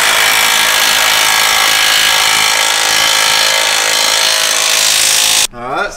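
A power tool runs continuously and loud, driving transmission mount bolts during a K20 truck Duramax diesel swap, a steady whirring drone that stops abruptly near the end and is followed by a brief squeal.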